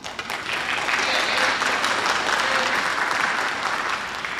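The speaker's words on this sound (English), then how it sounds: "Okay, I'm going to clap." Steady applause from attendees at a school district board meeting, a dense wash of many hands clapping that starts abruptly and holds evenly at moderate volume without any talk.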